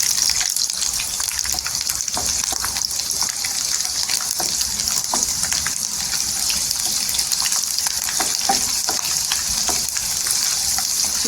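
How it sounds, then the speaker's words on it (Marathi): A generous amount of garlic frying in a pan until golden gives a loud, steady sizzle with crackling pops, continuous throughout without talk. "भरपूर अशी लसूण टाकायची लसूण शिजलेली आहे कारण टेस्टी लागलं पाहिजे आणि लसूण एकदम गोल्डन कलर झालं पाहिजे"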